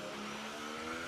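Racing car engine from an F1 racing video game at the Brazil circuit, a steady high-pitched whine held at near-constant loudness for about a second, with no voices over it.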